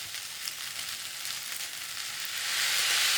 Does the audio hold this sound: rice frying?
yes